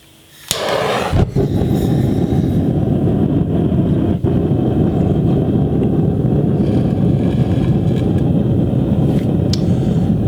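A propane burner on a small Chinese-made foundry furnace, lit with a butane torch, catches with a brief hiss and then settles into a loud, steady, broadband roar that carries on unbroken, with no talking over it.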